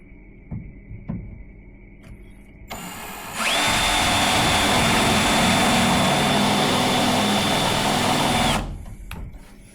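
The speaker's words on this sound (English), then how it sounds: "we have here our spot weld drill. Let's test how this works," A spot weld drill runs on a Volvo S40 in the engine bay, giving a loud steady high-pitched whine for about five seconds, close up, after some quieter clicks and handling noise.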